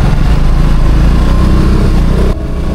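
A motorcycle engine drones steadily and loudly while the rider weaves through jammed Kuala Lumpur city traffic, then the engine note drops off near the end.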